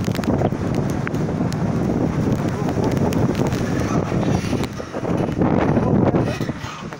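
Strong wind from Cyclone Remal roars in steady, loud gusts that buffet the microphone, broadband and continuous throughout with a brief lull near the five-second mark, no voices present.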